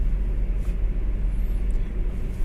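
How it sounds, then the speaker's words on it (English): Steady broadband rushing and low rumble of road and wind noise inside a moving 2018 Nissan Micra, with no talking. "there's a lot of wind noise"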